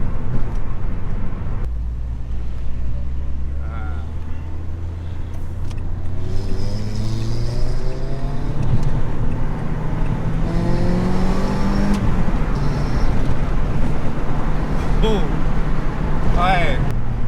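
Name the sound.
Renault Clio 172 Trophy engine driving and revving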